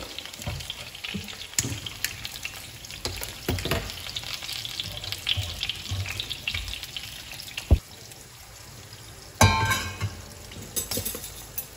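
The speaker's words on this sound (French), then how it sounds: "Les poivrons ont suffisamment grillé, je vais les retirer." Bell peppers sizzle and crackle as they grill in a pan, with steady frying noise, scattered utensil clicks and a louder burst of activity near the end.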